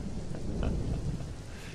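Steady rain hisses in a Roblox camping game at night, with a low rumble of thunder rolling underneath, fairly soft and continuous with no one speaking.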